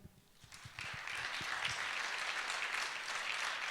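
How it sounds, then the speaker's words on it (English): An audience at a raw materials conference applauds its panelists; a few scattered claps quickly build into soft, steady, somewhat distant applause filling the hall. "Round of applause for them."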